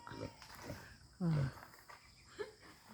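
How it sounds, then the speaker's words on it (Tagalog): Pigs kept in a pen on a rural farm in Marinduque, with a loud, short grunt or squeal standing out briefly amid a faint outdoor background and a few softer animal noises. "Ayan ang mga baboy na alaga."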